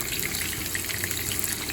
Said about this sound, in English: The nice sizzling of shrimp.